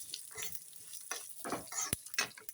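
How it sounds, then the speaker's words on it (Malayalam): White and black sesame seeds crackle and sizzle in hot ghee, with irregular close popping bursts and stirring scrapes over a couple of seconds. "വെള്ള എള്ളിട്ട്, കറുത്ത എള്ളിട്ട്, സ്റ്റൗ ഓഫാക്കുക."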